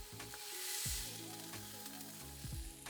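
Food sizzles on a non-stick griddle over an induction hob, a steady close frying hiss with small crackles and faint stirring or scraping taps throughout, no voices.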